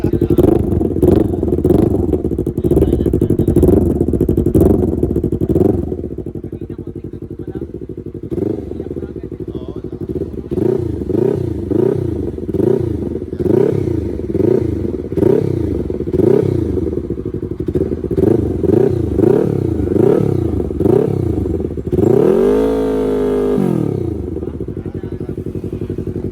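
A Yamaha MT-03 motorcycle with an aftermarket exhaust silencer idles and revs in a steady, pulsing drone, rising in one sharp rev near the end, with people talking nearby.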